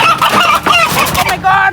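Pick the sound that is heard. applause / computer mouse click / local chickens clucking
local chickens clucking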